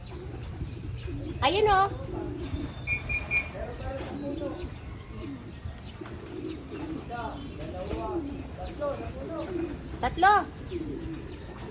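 Racing pigeons on a rooftop coo repeatedly at moderate distance, with soft chirps and a few flutters mixed in, while someone talks on and off nearby.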